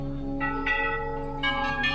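Temple bells ring at the Golu Devta (Goljyu) temple, known as the bell temple and hung with thousands of bells, several overlapping metallic strikes that ring out and sustain over a steady background drone.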